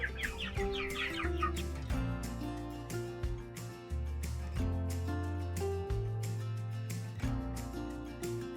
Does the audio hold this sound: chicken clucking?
yes